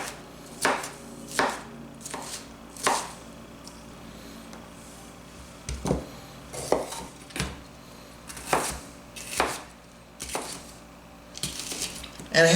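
A Nakano santoku knife chopping on a board in repeated bursts of quick, crisp taps with short pauses between, close and clear.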